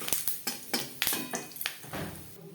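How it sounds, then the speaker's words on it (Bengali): Bay leaf pieces and five-spice seeds frying in the oil left from frying rohu fish, for a fish curry with eggplant: sharp crackling sizzle and quick popping bursts close by, with light stirring clinks throughout. "মাছ ভেজে নেওয়া তেলে ফোড়নে দিয়ে দেবো একটা তেজপাতা, 5 ফোড়ন।"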